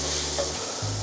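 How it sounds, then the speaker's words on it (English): An egg frying in a pan gives a soft, steady sizzle with a faint low hum and a brief clink partway through, quiet and close. "So that's sizzling right"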